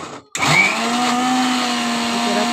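A mixer grinder jar grinds ingredients into powder. After a brief silent gap its motor kicks in abruptly and holds a loud, steady high-pitched whir to the end.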